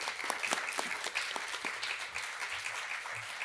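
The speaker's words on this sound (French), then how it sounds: "Je voudrais que vous les applaudissiez encore une fois bien fort" Applause from the audience at a cultural event honouring Jean de la Fontaine and Senghor: a dense, even wash of clapping that holds at a steady level throughout, with no voices on top.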